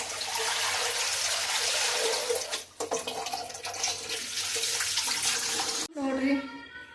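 Fish are washed under steadily running tap water that splashes close by, with a brief break partway through and a short change in the water sound near the end, while a person speaks over it.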